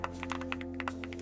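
Quick clattering keystrokes on a loud computer keyboard, a rapid irregular run of close clicks over a low steady hum.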